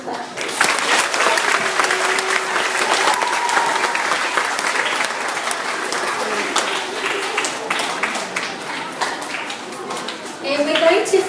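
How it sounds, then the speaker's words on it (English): An audience at a school assembly claps for children, a full round of applause that gradually thins out, with some voices and children chattering underneath toward the end. "Can I invite you to give them a clap, please?"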